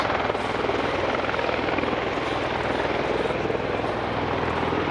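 Loud, steady rotor roar of a tiltrotor aircraft hovering nearby at an airshow, a constant pulsing drone filling the whole clip.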